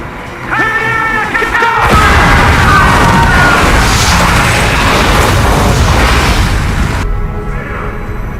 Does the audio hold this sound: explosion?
yes